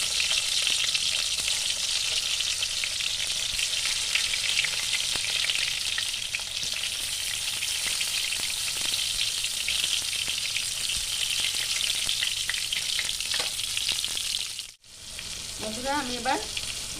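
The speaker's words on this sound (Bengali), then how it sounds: "এবার তেলে বেগুনগুলো আমি ভেজে নেব।" Eggplant pieces deep-frying in plenty of hot oil, a loud, dense, continuous sizzle that runs almost unbroken, briefly cutting out near the end before resuming with a few crackles.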